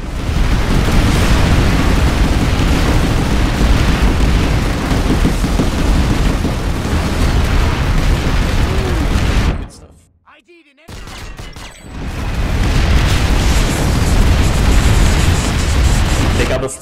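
Heavy rocket explosions and gunfire rumble through a military video game battle, dense and loud, broken by a sudden near-silent gap before the barrage resumes.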